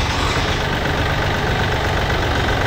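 A Yanmar F210 tractor engine runs steadily nearby, a loud continuous low diesel rumble with no speech over it.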